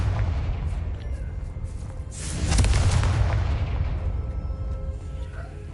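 A Confringo blasting spell explodes in Hogwarts Legacy: a loud, booming blast that swells midway and rumbles on under a dense, continuous roar.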